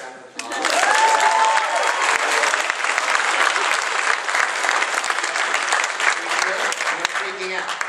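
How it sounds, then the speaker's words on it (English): An acting workshop audience breaks into loud, sustained applause that holds steady for several seconds, with a few voices audible beneath the clapping. "give it a round of applause."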